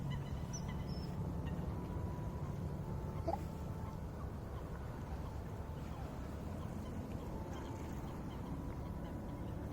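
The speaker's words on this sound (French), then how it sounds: "Écoutez le bruit des canards qui communiquent." Ducks call to one another on a lake: faint, scattered honking quacks heard at a distance over a low, constant outdoor rumble, with no voices.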